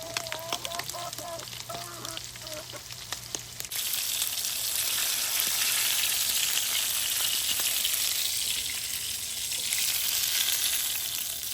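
Channel catfish pieces fry in a pan with a loud, steady sizzle. Scattered crackles and pops come first, then a dense, continuous hiss fills the rest.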